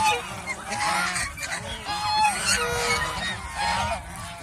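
A male domestic goose at a breeding farm honks repeatedly in loud, nasal calls, close by, with other geese calling in the background.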